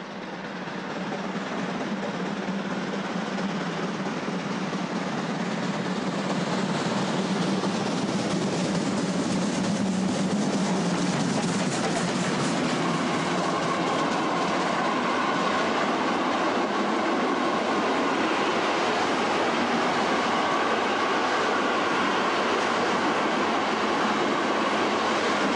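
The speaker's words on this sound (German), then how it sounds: "dampfen wir nun über die Gleise Richtung Cottbus" A steam train rumbles steadily along the tracks at top speed on the Nauen–Lübbenau line through the Spreewald, a continuous loud roar with a constant rushing hiss and no break throughout.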